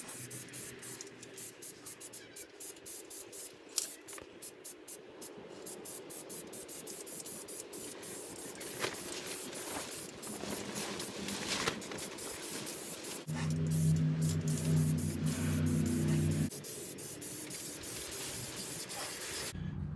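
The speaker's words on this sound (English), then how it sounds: "I am going to blow this guy off with the air hose real quick, touch up that spot, then blow it off, and then we'll paint him" Compressed air hisses in bursts from an air hose across a carved wooden bear, followed by spray painting with a steady, louder rush near the end, close by.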